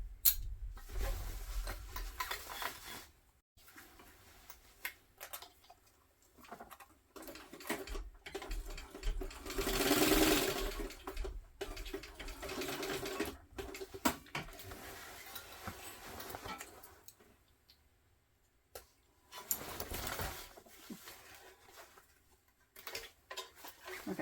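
A sewing machine stitches a tote bag in short bursts of rapid ticking, with pauses and a few louder stretches between runs of stitches, fairly quiet and close.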